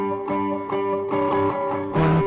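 An electric guitar plays a short riff from a song: a few rhythmic, lightly driven chord strums and picked notes over about two seconds, moderately loud and close, with no talking.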